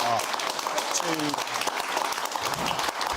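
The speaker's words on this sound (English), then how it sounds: "Ladies and gentlemen, big round of applause for our two" Studio audience clapping through a short stretch, a dense, steady patter heard beneath a presenter's voice.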